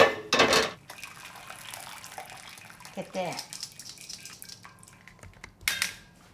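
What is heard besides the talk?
draining cooked soybeans in the kitchen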